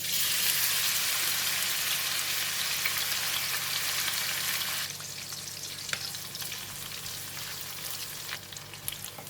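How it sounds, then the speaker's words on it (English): Dried anchovies (ikan bilis) frying in hot oil for sambal, a dense close sizzle that eases to a quieter crackle halfway, with occasional pops and stirring clicks. "We're going to fry the ikan bilis for a couple of minutes just for the ikan bilis to cook, but not too very crispy"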